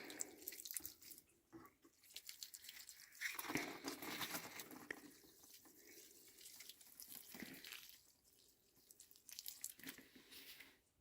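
Water splashes and trickles onto seed trays in quiet bursts, soft gurgling and dripping that swells and fades as the pouring moves from tray to tray.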